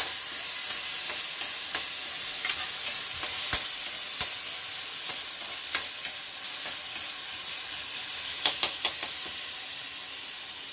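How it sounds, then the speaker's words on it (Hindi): Onions frying in a pan for homemade tomato soup: a steady, close sizzling hiss with intermittent scraping clicks of stirring, and no voices. "प्याज डालेंगे, प्याज को अच्छी तरह से भून लेंगे।"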